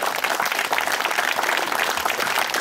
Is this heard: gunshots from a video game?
no